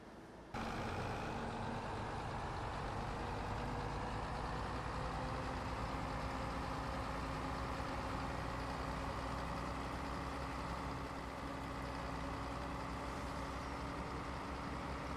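A bus in Farming Simulator 22 pulls up and sits idling, a steady loud diesel engine drone with a constant low hum after a sudden start, no voices.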